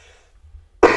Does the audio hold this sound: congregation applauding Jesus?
no